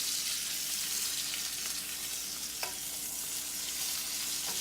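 A New York strip steak sears in butter with a constant, close, crackling sizzle and one brief tap of a utensil partway through.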